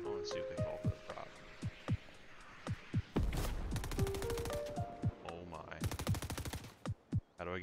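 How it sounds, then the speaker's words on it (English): Heavy shotgun fire in a video game: several sharp, loud booming blasts spaced unevenly, with bursts of rapid automatic fire and electronic game tones, while a player talks over the action. "With the heavy shotgun from so far. Dude, this gun's crazy."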